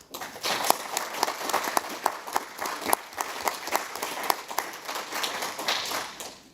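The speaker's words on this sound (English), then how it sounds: "A big round of applause." Sustained applause from a crowd at a council meeting, dense clapping filling the whole stretch with a steady, lively roar.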